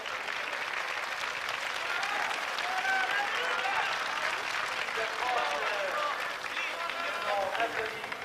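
A crowd applauds steadily throughout at the 1980 Paris–Roubaix cycling event, with a commentator's voice talking in French over the clapping.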